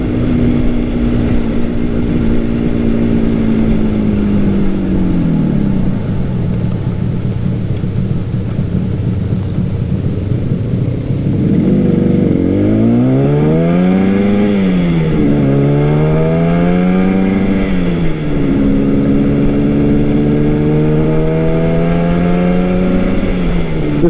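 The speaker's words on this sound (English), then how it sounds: "This bike has stock exhaust. It's got a cool exhaust sound to it" A 1969 Yamaha R3 350 two-stroke motorcycle with a stock exhaust is ridden on Pennsylvania roads, its loud, buzzy engine note climbing and falling through several gear changes and throttle swells, dipping to a lower drone midway before revving up again.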